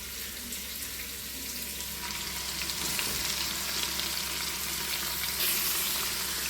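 Sliced onions sauté in a pan for beef biryani, producing a continuous close, even sizzle with faint stirring movement and no speech.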